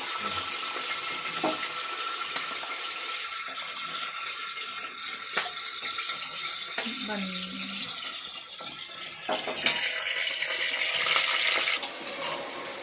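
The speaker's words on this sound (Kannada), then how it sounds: "ಇವಾಗ ಎಣ್ಣೆ ಬಿಸಿ ಆಗೈತ್ರಿ. ಅದ್ರೊಳಗೆ ಇದೆಲ್ಲ ತರಕಾರಿನ ಹಾಕ್ಕೊಂತೇನೆ." Vegetables tossed into hot oil in a home kitchen pan give a steady broadband sizzle and hiss throughout, with a few sharper clatters and splashes along the way and no talking.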